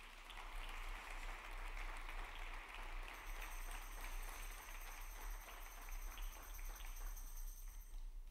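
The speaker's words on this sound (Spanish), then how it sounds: "Dale un aplauso al Señor." A church congregation applauds during a worship service, sustained dense clapping filling the room for several seconds, with a faint high ringing tone entering partway through.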